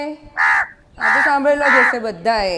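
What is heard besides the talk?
crow cawing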